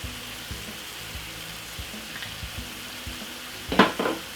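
Chinese stir-fry rice with soy sauce and five spice frying in a pan: a soft, steady sizzle with faint stirring clinks, and a brief louder scrape near the end.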